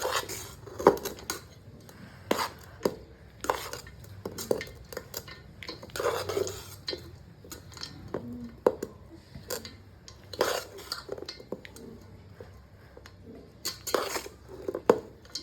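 Tamarind pulp is mixed into cooked rice in a pot with a steady series of spoon knocks, scrapes and clinks against the vessel, the sounds arriving close and fairly loud in an irregular rhythm.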